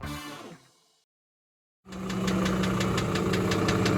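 Mercedes Sprinter van engine running rough on a long cross-country drive, a loud steady mechanical drone with rapid knocking pulses after a short silence, close and continuous with no talk.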